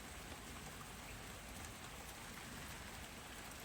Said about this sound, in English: Just done the planting of the borders, and it's raining again.